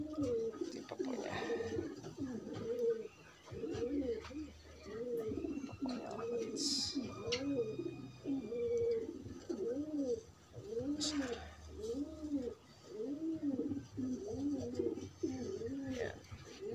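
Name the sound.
pigeons cooing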